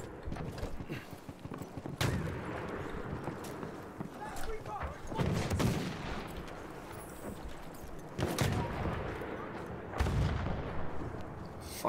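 A tank firing in the Battlefield 1 beta video game, several heavy booming blasts spaced a few seconds apart over rumbling battle noise, with someone talking in between.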